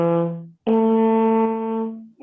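Trombone notes articulated in first position: a short tone, a brief gap, then a long sustained tone tongued cleanly, bright and close with rich harmonics, played alone.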